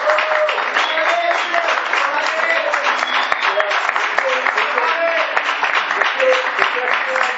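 A theatre audience breaks into loud, sustained applause that fills the room evenly from start to finish, with a few voices calling out beneath the steady clapping.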